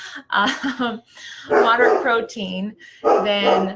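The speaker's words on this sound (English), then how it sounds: "that's our dog, sorry" Pet dog barking in sharp repeated bursts close by indoors, interleaved with a person talking.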